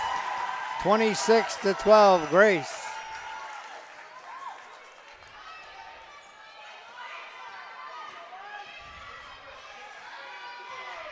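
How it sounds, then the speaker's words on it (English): Crowd at a high school region 3A basketball game cheering after a three-pointer, a loud brief roar near the start that fades into ongoing gym noise, with an announcer talking throughout and a loud rising voice near the start. "the crowd goes wild"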